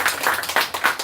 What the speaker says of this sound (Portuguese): Vamos aplaudir para Jesus.